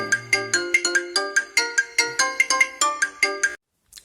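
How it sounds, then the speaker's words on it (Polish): A phone ringtone plays a bright, repeating electronic melody of quick plucked notes in a steady rhythm, loud and close, alone with no talk, cutting off abruptly near the end. "przerwał mi telefon"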